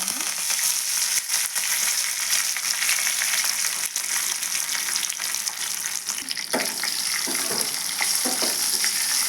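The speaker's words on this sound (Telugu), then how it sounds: "కరివేపాకు అవి బాగా ఫ్రై కావాలా" Curry leaves and tempering spices sizzle and crackle steadily in hot oil for a Telugu tamarind-leaf dal, a continuous close frying hiss with occasional stirring clatter and no talk.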